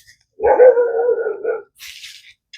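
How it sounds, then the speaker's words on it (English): A dog barks and howls outdoors during a thunderstorm: one drawn-out, loud, close vocalization, followed by a brief hissing rumble. "The dog is barking at the thunder."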